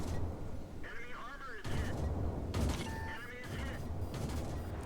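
Tank cannon shots fired in the online game World of Tanks, sounding as several loud, booming blasts spaced a second or so apart over steady game noise, with a voice talking alongside.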